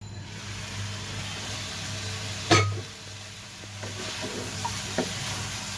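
Soft frying sizzle in a pan under a steady low hum, with one sharp knock partway through and a few light clatters afterward; rupchanda fish with cauliflower is cooking.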